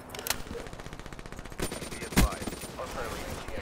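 Shotgun blasts go off in a Black Ops 3 multiplayer match, with quick bursts of gunfire and one sharp, loud report near the middle, set against busy game noise and talk.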